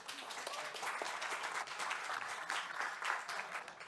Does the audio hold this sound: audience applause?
yes